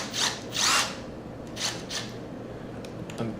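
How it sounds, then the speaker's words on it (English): A Bosch 12V drill-driver drills into wood in several short bursts, two longer whirring passes early and two briefer ones later, fairly close and moderately loud over a quiet room background, with no talk. "I'm trying to drill precisely,"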